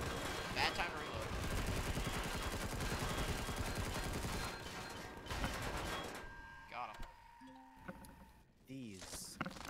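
Gunfire in the video game Empyrion in an abandoned mine, a loud, dense burst of rapid automatic shots, then scattered bangs and game effects, with players talking over it.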